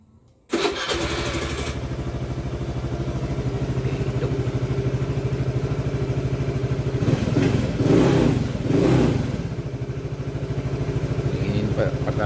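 A Suzuki Address scooter engine starts abruptly and then runs at a steady loud idle with a fast even putter, rising briefly as if revved, while someone talks over it.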